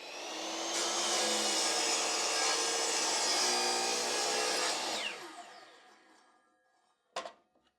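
A power saw cuts through wood for a wooden spatula, a loud, steady whine for about five seconds that winds down, followed by a single sharp knock.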